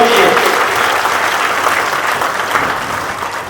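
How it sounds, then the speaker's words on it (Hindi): Loud, dense applause from a seminar audience, a sustained wash of many hands clapping that starts strong and eases slightly toward the end. "एक बार जोरदार ताली अपने माता पिता के लिए मारना चाहता हूँ"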